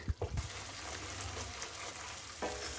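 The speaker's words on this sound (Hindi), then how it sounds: "इसे हम चलाते हुए 2 से 3 मिनट भून लेते हैं।" Onion masala stirred and frying in a pan, a soft steady sizzle with a few scraping stirs of a spoon near the start and again near the end, faint and close.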